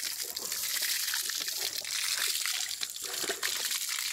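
Muddy, chocolate-brown water runs and trickles in the aftermath of the North Cebu magnitude 6.9 earthquake, a close, continuous splashing flow with no talk over it.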